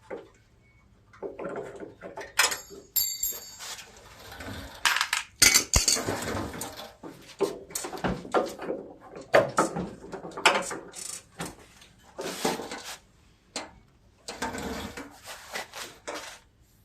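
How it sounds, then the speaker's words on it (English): Metal parts clank, rattle and ratchet in irregular bursts as the deck of a John Deere LA150 riding mower is lowered and worked loose, with close, uneven knocks and scrapes separated by short quiet gaps. "I'm going to drop my deck, make it a little easier to change this or get the pulleys and stuff off."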